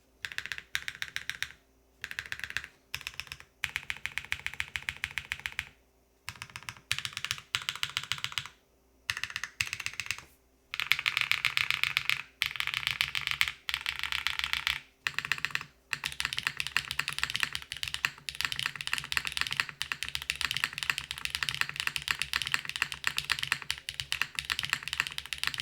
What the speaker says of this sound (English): This doesn't sound like traditional HMX switches.